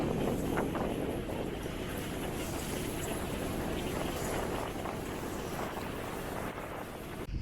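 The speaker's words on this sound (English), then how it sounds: "We got gusts up to 35 knots." Strong wind gusts of up to 35 knots roar steadily over a sailboat under a small headsail in the North Aegean, Greece, with loud, continuous buffeting on the microphone and waves washing faintly underneath.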